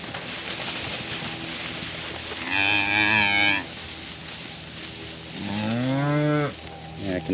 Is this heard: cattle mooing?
yes